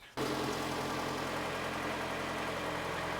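A 2003-2009 Toyota Camry engine starts up and settles into a steady idle, a sudden onset followed by a constant low rumble and hum, close and even for the rest of the clip.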